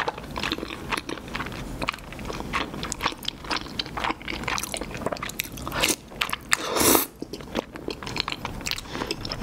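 Close, loud biting and crunchy chewing of spicy rose tteokbokki with pasta noodles and a spicy kimbap roll of rice, gochujang, tuna, sesame oil and pickled radish, repeated wet crunches and squishes throughout with no talking.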